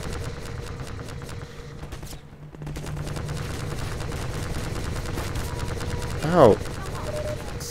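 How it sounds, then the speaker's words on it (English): Gunfire in the video game Half-Life 2, a dense continuous rattle of shots with a brief pause, while a player yelps once over it. "where are they shooting me from?"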